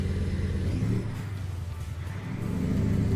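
A modded Mack Superliner truck engine in a trucking video game, rumbling and revving up, easing back slightly mid-clip, then building again in a steady, close, continuous drone.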